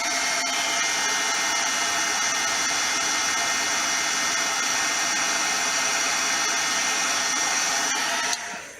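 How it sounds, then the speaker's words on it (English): A heat tool blows continuously over embossing powder on a card, a loud, close, steady whirring hiss that holds for about eight seconds, then cuts off abruptly. "I'm going to use my embossing tool, heat tool,"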